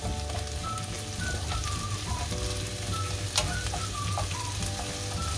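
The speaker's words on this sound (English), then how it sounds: "Getting the onion to go a bit clear and the butter to all melt." Onion fries in butter in a non-stick frying pan, a steady close sizzle and crackle with a few light scraping stirs and no talk.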